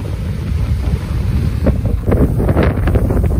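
Strong wind roars across an estuary during a spring tide, a loud continuous buffeting rush against the microphone with surges of water splashing and lapping underneath, no voices.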